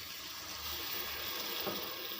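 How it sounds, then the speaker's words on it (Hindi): Water poured into a pan of cooking daal masala with tomatoes, crushed red chili, turmeric and salt, a steady close rush of liquid with a faint sizzle beneath, alone without talk. "थोड़ा सा पानी ऐड करेंगे।"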